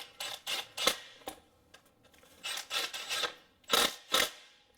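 A transmission range switch being bolted up with 10mm bolts, heard as close ratcheting and rasping clicks. They come in short bursts with small pauses between them. No one speaks.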